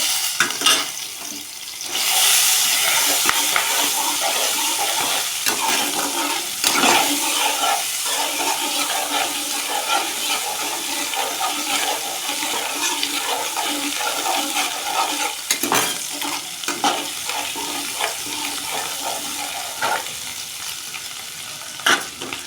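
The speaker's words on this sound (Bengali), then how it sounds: "মশলাটা একটু কষে নেব" Green chilli, ginger and cumin paste frying in a pan for a vegetarian Bengali dish, a loud continuous sizzle with repeated stirring scrapes and clinks for the whole stretch, no talking.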